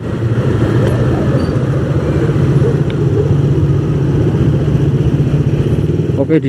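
Heavy evening traffic jam of cars and motorcycles at a red light in Batam, Indonesia, a steady loud rumble of idling and creeping engines heard from a motorcycle in the queue.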